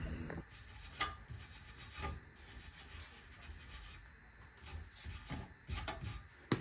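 Rust scrubbed off a part from a 1998 Jeep Wrangler, heard as steady close rasping and rubbing strokes with a few louder scrapes spread across the clip, and no talking.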